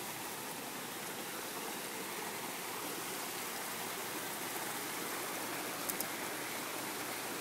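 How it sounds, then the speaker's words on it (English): Water pours steadily from a garden waterfall, a continuous, even rush of splashing water heard fairly close with no other sounds. "Now, here's the water we heard."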